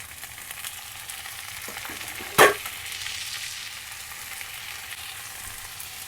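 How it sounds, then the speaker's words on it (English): Black beans tipped into a pan of frying onions and garlic, giving a steady sizzle throughout with one sharp, brief burst of clatter and hiss as they land midway. "Now it's time to add the beans in"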